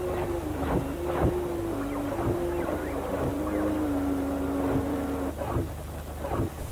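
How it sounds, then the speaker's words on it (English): A robot dog swarm on the move: a steady mechanical drone with a wavering low tone, punctuated by scattered thumps and clanks, continuous and fairly close throughout. "their mechanical movements and operating sounds."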